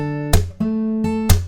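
Acoustic guitar plays a picking pattern in a song, ringing plucked notes punctuated by two sharp percussive slaps on the strings, close and clear with no talking.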